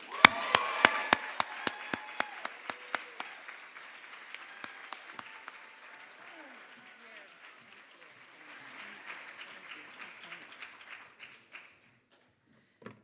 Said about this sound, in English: please give a big round of applause to Sarah Paulson